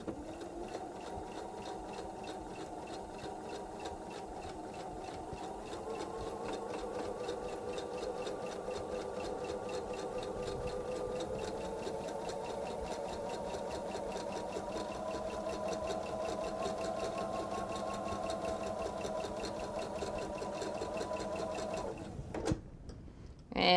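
A sewing machine stitches fabric for a bench pillow, a close, steady, rapid mechanical whir that runs for about twenty seconds, then stops with a soft clunk, with no talk.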